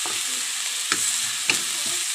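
Pork chop frying in a pan with a steady sizzle, broken by two or three sharp scrapes and clinks as it is stirred, close and continuous with no talking.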